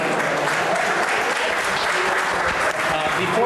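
Audience applause at an event on Chicago's Puerto Rican music, a loud, sustained burst of many hands clapping at an even level throughout.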